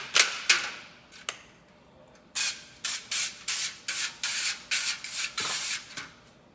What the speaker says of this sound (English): it's propellant-free avocado oil spray